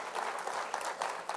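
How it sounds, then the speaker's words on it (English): Short burst of audience applause for volunteers at a live show, a brief patter of clapping from a modest crowd, moderately quiet and steady throughout. "one more round of applause for our brave volunteers"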